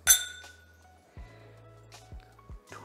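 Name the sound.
glasses clinking in a rum-tasting toast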